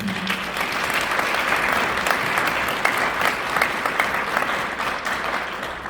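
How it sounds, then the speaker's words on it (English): An audience applauds steadily, a dense wash of clapping that carries on without letup from start to finish. "So give them all another round of applause."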